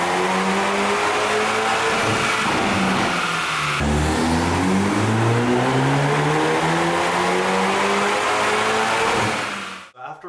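Hyundai Veloster N running on a dyno, its engine revving hard through rising pulls with gear-like sweeps, loud and close, cutting off abruptly near the end.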